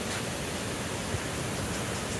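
Steady, dense roar of water pouring over Ssezibwa Falls in central Uganda, a continuous broadband rush with no breaks and no voices.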